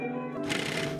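Scissors cut through fabric in one short close snipping and rustling pass that is loud and brief, with no voices.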